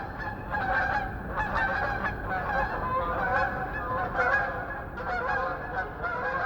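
A flock of snow geese passing overhead at around 5,000 feet, picked up by an outdoor microphone, honking continuously in overlapping calls at a steady distance.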